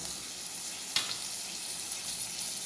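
Chopped, already-fried chicken goes into a masala for a Kerala-style chicken cake, and a steady, even sizzle of frying follows, with one brief sharp crackle near the start.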